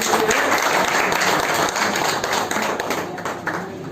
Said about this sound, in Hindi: ताली मार के स्वागत